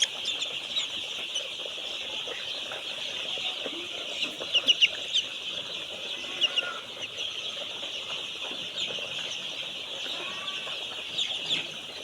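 Chickens on a poultry farm cluck softly in short scattered bursts over a steady background hum, fairly distant and faint, with no talk.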